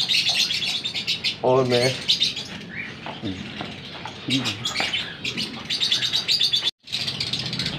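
Small birds chirp and tweet in dense, overlapping bursts near the feeding spot as sunflower seeds, wheat and capsicum are scattered for them, with someone speaking Hindi at intervals over the calls.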